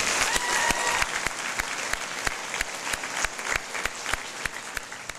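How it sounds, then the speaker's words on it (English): A graduation audience applauds steadily, a dense patter of clapping with a few sharp, distinct claps standing out, continuing for several seconds. "join me in a round of applause"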